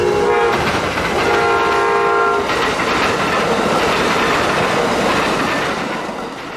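An Amtrak 91 passenger train with three coaches, a cafe car and a baggage car rolls past a Plant City viewing platform, its horn blaring loud and close for the first few seconds before giving way to steady wheel clatter and rumble.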